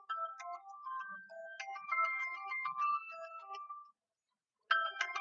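Phone ringtone in a home sounds clearly: a melodic electronic tune of stepped tones plays for about four seconds, stops briefly, then starts again, loud and close with no talking.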